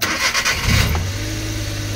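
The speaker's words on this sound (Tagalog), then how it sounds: "Alright, engine start." A Suzuki DA64V van with a K6A engine cranks and catches, settling into a steady close idle; the engine later has an up-and-down idle fault.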